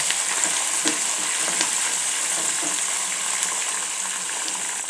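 A handful of curry leaves with garlic and spices crackles in hot oil for a poha dish, giving a steady, close, dense sizzle with faint pops and no voices.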